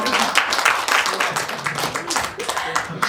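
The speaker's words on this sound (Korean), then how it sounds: "박수 한번 쳐주세요" An audience at a lecture on human relationships and communication claps together, a loud, uneven burst of many hands with sharp individual claps standing out, holding steady before trailing off.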